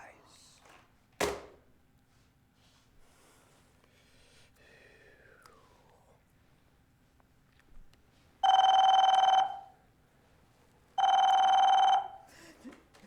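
A telephone rings twice in long electronic trills with a pause between them, loud and close after a quieter stretch of faint sounds, during a live theatre play.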